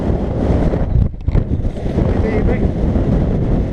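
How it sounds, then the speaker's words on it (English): Strong wind batters the microphone on a hill walk at Moel Famau Country Park in Wales, a loud, continuous low roar with a brief lull before gusting back up. "Oh, this wind is terrible."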